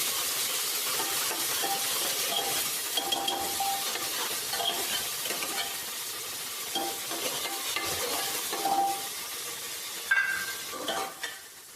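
Cumin and finely chopped masala fry in hot desi ghee in a Punjabi village kitchen, a continuous close sizzle broken by scraping stirs and occasional pan clinks, with no talk.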